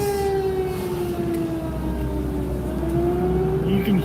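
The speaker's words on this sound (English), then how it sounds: "Tornado sirens are going off, Hallsville, Texas." An outdoor tornado warning siren in Hallsville, Texas wails continuously, its pitch slowly sagging and rising again, loud over a low background rumble.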